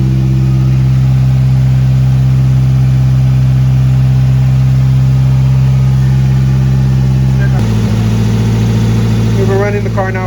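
A Toyota 4AGZE supercharged engine in an AE71 warming up at a loud, steady idle with a deep droning hum that shifts to a slightly different pitch partway through, while someone speaks over it near the end.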